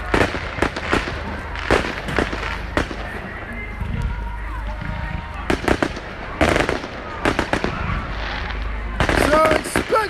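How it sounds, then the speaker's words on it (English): Fireworks at a bonfire night display at Manor Fields burst repeatedly as sharp, loud cracks and bangs in irregular clusters, with crackling and the crowd audible between them. "fireworks display is well underway!"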